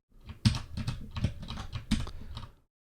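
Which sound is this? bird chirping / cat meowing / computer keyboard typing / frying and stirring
computer keyboard typing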